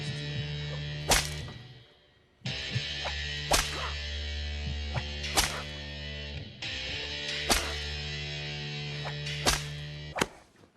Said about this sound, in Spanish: un J-Cut con el sonido de los latigazos antes de que veamos el recuerdo de cómo fue azotado